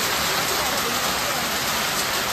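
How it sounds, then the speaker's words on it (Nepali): Hail and rain pour down steadily at about 2900 m in the Himalaya on the Annapurna trek, a dense, even hiss with no pauses for the whole moment. "हिमालयमा पुग्ने बित्तिकै असिना पानीले स्वागत गरेको।"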